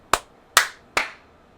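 Three sharp hand claps from three people in quick sequence, each a single crisp slap about half a second apart, close and clear with no talking.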